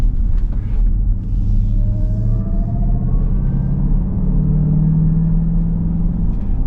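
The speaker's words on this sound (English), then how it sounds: "And you got this unbelievable supercharger whine, which hopefully the camera will pick up in a little bit." A 2024 Dodge Durango SRT Hellcat with a performance exhaust accelerating uphill, its supercharger whine climbing steadily in pitch over a loud, continuous low engine and exhaust rumble heard from inside the vehicle, with no talking.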